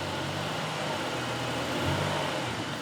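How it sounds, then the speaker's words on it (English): A car engine, a long-dormant manual car being started for the first time in years, running roughly with a brief rev under steady mechanical noise, close and fairly loud, no speech. "Seems to die when you rev it up."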